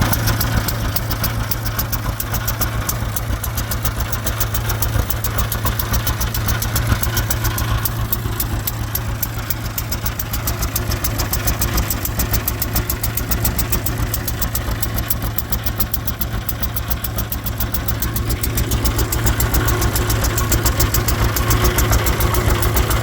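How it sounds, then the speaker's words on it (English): An old John Deere GP tractor engine idles steadily up close, a loud, rapid, even putter that holds constant throughout. "She's a John Deere GP, general purpose tractor."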